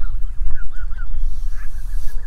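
Geese honk in short repeated calls close by, one after another, over a rough, rumbling outdoor background without any talking.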